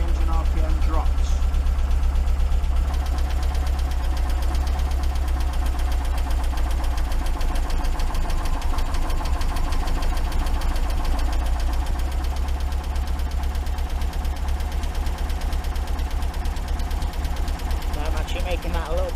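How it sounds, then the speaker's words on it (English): Porsche 914 engine idling steadily while its twin Weber carburetors are tuned, a loud, even mechanical rumble with a rapid ticking pulse running throughout. "I'm going to adjust the fuel in the number 3 just by my ear to see when the engine RPM drops"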